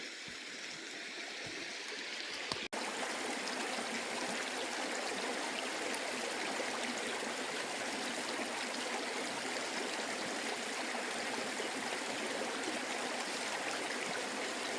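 Creek water flows steadily over clay-filled bed and fallen trees, a constant close rushing babble with no voices, after a brief quieter start.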